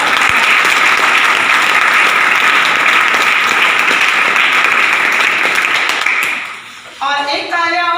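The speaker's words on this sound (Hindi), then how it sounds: "और एक तालियां और चाहूंगी मेरे अपलाइन मिस्टर इंद्रजीत जी सर और चमनदीप" An audience of about 200 people at a meeting applauds loudly and steadily for about six seconds, then the clapping fades and a voice starts speaking in Hindi.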